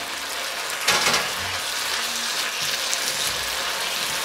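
Beef being added to a hot pan for velveted beef with Chinese broccoli, a loud burst of sizzling when it goes in settling into a steady crackling fry, no talk.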